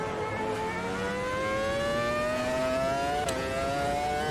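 A racing car engine in the Automobilista 2 sim game revs steadily upward through a gear, a smooth rising whine with a short shift blip near the end, loud and alone without talk.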